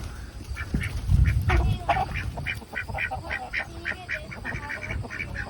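A farmyard duck quacks in a quick repeated series, mid-distance and fairly loud, as a chicken chases it around an outdoor pen, with no talk over it.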